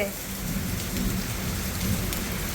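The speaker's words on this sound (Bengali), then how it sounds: "ঝমঝম জমজম মা ওই বাবা হাত বাড়িয়ে দিয়েছে বৃষ্টি ধরার জন্য মেঘ ডাকছে" Heavy rain pours steadily on surfaces while deep thunder rolls underneath, a dense, continuous wash of sound with no talk.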